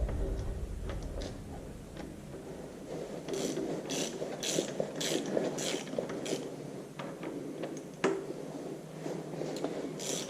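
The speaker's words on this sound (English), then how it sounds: "Take a 3/4 inch socket will take these off." A hand ratchet with a 3/4 inch socket works bolts loose on a Farmall Super MTA tractor, giving quiet bursts of rapid clicking with pauses between strokes, close by in a workshop.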